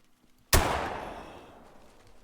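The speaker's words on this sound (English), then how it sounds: "I want to take advantage of this situation and try and make a shot." A single 20 gauge slug shot fired at a blacktail buck about 50 yards off in the hunting game Call of the Wild: one sharp, loud report after a quiet moment, with a long echoing tail that slowly fades.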